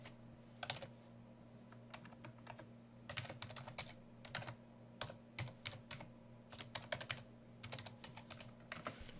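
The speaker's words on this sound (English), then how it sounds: "In here, under Journals, type in the journal title." A computer keyboard clatters as a journal title is typed in quick irregular bursts of keystrokes, with short pauses between words, close and fairly quiet over a low steady hum.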